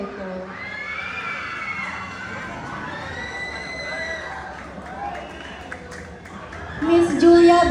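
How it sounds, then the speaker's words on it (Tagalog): Pageant audience at Queen of Ilagan 2025 clapping and cheering, a steady broad crowd roar with shouts throughout, swelling louder near the end while voices carry over it. "Bigyan ho natin ng masigabong palakpakan at hiyawan ang nag-iisang kawangis ni Miss Julia Barreto"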